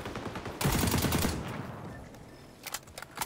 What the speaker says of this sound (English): they're shooting our shield